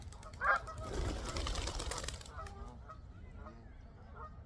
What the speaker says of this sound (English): These are water birds, ducks, to be specific, being fed and really entertaining the children and parents